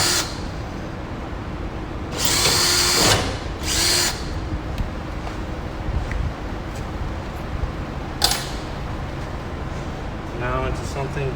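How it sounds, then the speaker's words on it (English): A power drill with a small bit bores a pilot hole in short bursts of high whirring, a longer run followed by briefer ones, with someone talking between them. "Small drill bit first into a bigger size one"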